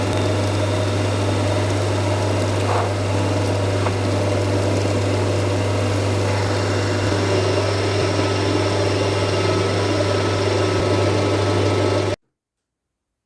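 Lathe machining a clutch alignment pin in a workshop, a steady loud motor hum with a constant low tone and faint scraping of the cut over it, running evenly before stopping abruptly.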